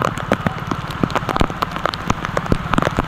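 Heavy monsoon rain in Surat pours down steadily, with dense drops drumming close on a surface in a constant, loud patter and no voices.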